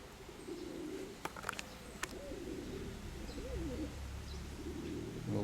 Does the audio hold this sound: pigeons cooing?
yes